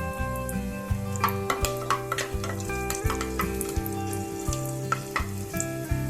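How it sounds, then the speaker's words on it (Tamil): Three green chilies fry in hot oil in a pan with cinnamon, cloves and bay leaf for a Tamil yogurt kurma, a soft crackling sizzle with faint ticks under steady background music. "மூணு பச்சை மிளகாய் சேர்த்திருக்கேன்."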